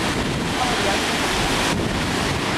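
Big ocean waves crash and surge below a high coastal viewpoint, a loud continuous roar mixed with heavy wind buffeting the microphone throughout the short stretch.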